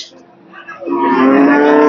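A single loud moo from a pregnant dairy cow rises and holds close by, following a brief quiet lead-in, at a cattle market in Hazratpur, Keraniganj, Bangladesh.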